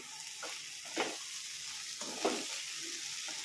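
Raw banana dry fry sizzles steadily in a pan, a soft continuous hiss with a few brief stirring scrapes, close and alone with no talk.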